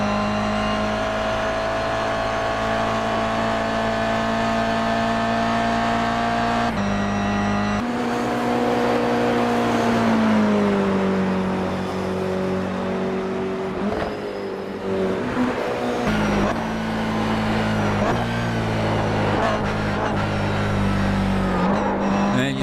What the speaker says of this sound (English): See the car bottoming out there as you go through the dipper.